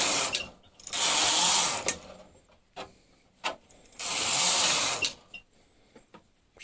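Knitting machine carriage swept across rows of yarn in two long, loud whooshing passes, with clicks and clacks of the needles between them, close up and free of talk.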